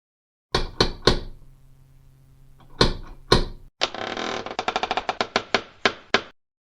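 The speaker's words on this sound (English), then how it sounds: "I think I'll knock on it this time." Sharp knocks on a door, three quick raps, a pause, two more, then a fast rattling run of knocks, all loud, close and crisp against silence.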